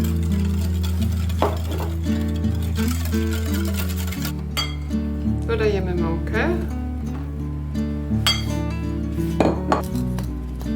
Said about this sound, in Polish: Ponownie mieszamy. Dodaję do tego oleju.